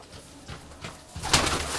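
Soft pigeon coos repeat nearby, low and rounded, with faint rustling in the background.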